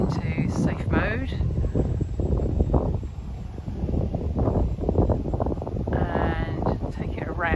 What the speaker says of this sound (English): The wind is just getting insane now